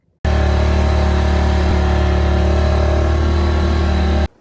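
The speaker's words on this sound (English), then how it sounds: "Unload the four-wheeler and go the last half a mile on it to get to the property." Engine of a four-wheeler ATV running steadily at idle on a rural property trail, a loud, close, constant low rumble with strong harmonic drone, lasting the whole stretch before cutting off abruptly.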